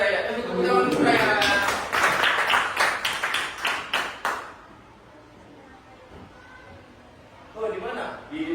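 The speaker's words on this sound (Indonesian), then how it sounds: "Tepuk tangan untuk Raya." Classroom clapping for a student, a short burst of claps from a group of children, fairly close, that stops after a few seconds, followed by quiet murmuring and then voices talking.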